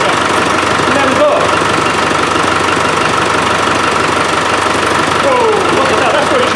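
A Land Rover 300Tdi diesel engine idles steadily in a workshop, a loud continuous rumble with a knocking character throughout, while a person's voice is faintly audible over it.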